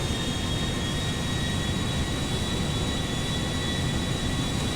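Airbus A350 mod jet in GTA 5 spooled to full takeoff power, a steady broadband engine roar with a thin high whine, constant and loud with no talk.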